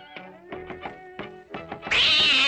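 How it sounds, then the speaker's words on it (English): A tabby cat in a cartoon lets out a run of several clear, close meows. A loud, noisy burst follows and holds to the end. "Hey, Horace, look what we got! A tabby cat!"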